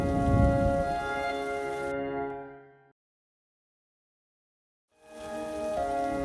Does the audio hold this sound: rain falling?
yes